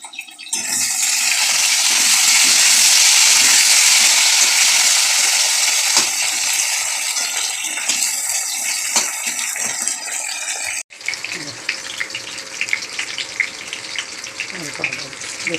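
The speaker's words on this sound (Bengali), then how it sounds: "জলটা একটু ফুটিয়ে" Water boils in a cooking pot, a loud continuous bubbling hiss close up that shifts to a rougher, busier bubbling for the last few seconds.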